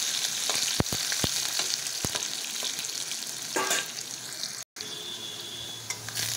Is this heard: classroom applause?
no